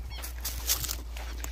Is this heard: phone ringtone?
no